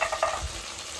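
Ground chili, cumin and ginger pastes with turmeric and a little water being sautéed in a pan for a ridge gourd and prawn curry, a brief close sizzle with light stirring.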